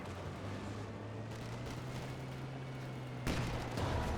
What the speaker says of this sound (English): 6-pounder shot onto the flame half track.